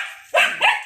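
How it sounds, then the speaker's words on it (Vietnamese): A Belgian Malinois puppy lets out two quick, high yipping barks close by, over a steady background hiss. "con kia nó sủa kìa"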